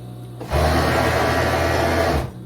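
Sewing machine stitching riding trousers, starting abruptly and running at a steady fast whir for nearly two seconds before stopping, loud and close with no talk.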